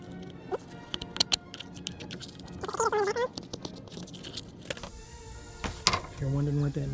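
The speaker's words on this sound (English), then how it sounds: "If you're wondering what that noise is, 8mm wrench to take this off" An 8mm wrench works loose a corroded car battery terminal, giving busy metallic ratcheting clicks and scraping close up, with rattles and a short rising squeak in the middle and a steady hum toward the end.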